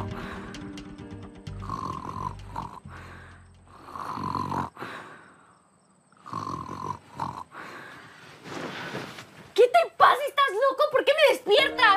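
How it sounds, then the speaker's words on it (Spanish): Heavy, rumbling snores in uneven bursts with quiet gaps between, followed by a voice briefly speaking near the end. "¿Por qué no me dejas dormir con tus ronquidos?"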